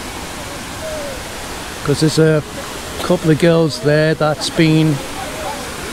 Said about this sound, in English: we'll go and have a look at the waterfall